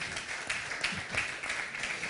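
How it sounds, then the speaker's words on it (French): An audience at a French conference on elderly-care facilities applauds, a dense, steady burst of many hands clapping together at moderate loudness, with no talk over it. "j'aimerais qu'on applaudisse nos amis d'Elior Santé, Catherine Martin et Gilles Roll."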